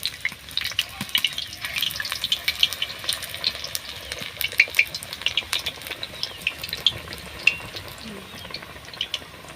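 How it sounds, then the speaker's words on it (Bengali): Potato chops frying one after another in hot oil, a steady crackling sizzle with small pops running throughout, fairly close and moderately loud with no talking. "এইভাবে বন্ধুরা সব চপগুলোকে আমরা ভেজে নেব"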